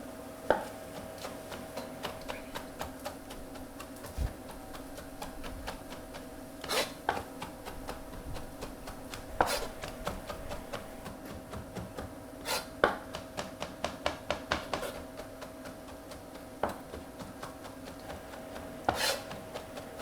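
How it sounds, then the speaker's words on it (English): Knife chopping mushrooms on a chopping board, a steady run of close, crisp taps and scraping cuts with short pauses, heard alone in a quiet kitchen. "Grab your knife and using the rainbow, chop until they're nice and small."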